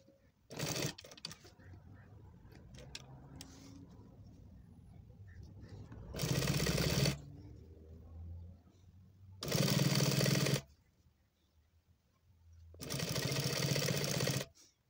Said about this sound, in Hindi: मैं फ्रंट पट्टी के ऊपर सिलाई लगाऊँ